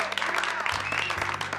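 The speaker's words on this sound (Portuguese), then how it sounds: "E então, todos começam a aplaudir a apresentação de Todd." Applause in a film scene after a student's poem performance, a dense crowd clapping steadily throughout with a low hum beneath.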